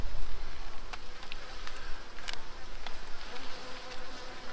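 Honeybees buzz around an opened hive during a split with a queen excluder, a dense, continuous drone close up, with individual guard bees whizzing past now and then.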